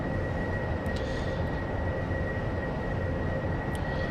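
AV-8B Harrier jet engine in a DCS flight sim: a steady, loud turbine roar with a constant high whine, continuous and unbroken, with no talk.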